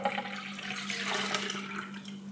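Milk poured into Belgian waffle batter, a brief steady liquid splash and gurgle with a low hum underneath, close and fairly quiet.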